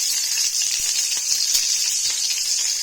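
Crushed garlic and onion fry in a pan with salt, giving a steady bright sizzle and hiss with faint soft clicks of stirring and no talking.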